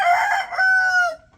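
A single rooster of a rare, hard-to-raise chicken breed crows loudly and close by in one drawn-out call that rises and then holds before cutting off.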